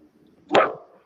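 A single sharp dog bark rings out close by in an indoor home setting, loud and alone against near silence.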